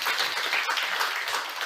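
Audience applause at a 2022 global missionary conference, a dense, steady wash of many hands clapping that holds loud and even throughout, with no talk over it.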